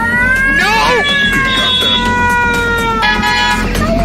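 A house cat meows and yowls loudly and close by in rising and falling drawn-out wails, with harsh background noise throughout.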